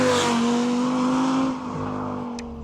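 A 2014 Audi R8 V10 Plus with its 5.2-liter V10 engine revving loudly and steadily up close, a rising harmonic whine that eases off near the end, with no talking.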